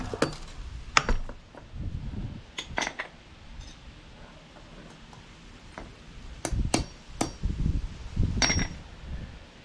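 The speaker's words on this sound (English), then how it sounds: "now I'll hammer the wrench on there maybe" Metal wrench being hammered onto a Honda Helix scooter engine bushing: a series of sharp, ringing metallic strikes, single and paired, spaced irregularly with quieter shuffling between.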